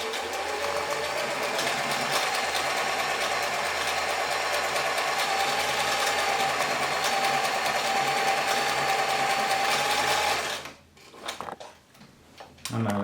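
A German-made Singer 720 sewing machine stitches buttonhole bar tacks with a steady, fast mechanical whir and tick that runs loud and continuous, then stops abruptly and leaves a few quieter clicks and handling noises.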